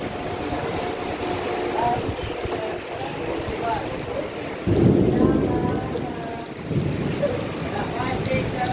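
Heavy rain pours steadily while thunder rumbles loudly partway through; voices murmur faintly in the background.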